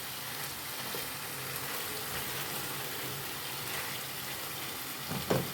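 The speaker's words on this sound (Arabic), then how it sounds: "انا بسيبها تتسبك كده في قلب بعضها" Potatoes with hot peppers frying in a pan, a steady, moderately loud sizzle running throughout, with a brief clink of stirring near the end and no talk.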